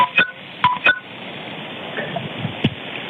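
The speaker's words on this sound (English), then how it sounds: "you can almost hear as if he's texting or fiddling with his phone while she's asking these questions" Several short keypad tones on a recorded 911 emergency call, a few quick beeps close together near the start and another isolated one later, faint and thin over a low hiss of phone-line noise.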